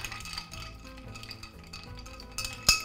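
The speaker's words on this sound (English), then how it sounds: "Stir this up. This is a beautiful gunmetal spoon from Barfly." A gunmetal bar spoon stirs a cocktail in a mixing glass, making soft clinks and swirling taps that end in one sharper clink.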